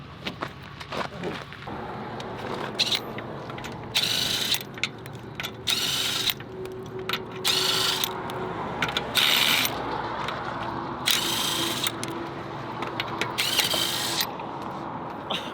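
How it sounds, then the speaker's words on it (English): Regular aluminum floor jack being pumped to lift a Harley-Davidson motorcycle, a steady series of loud ratcheting clicks and mechanical clanks in repeated bursts, close by with no talk. "we've got our regular aluminum jack"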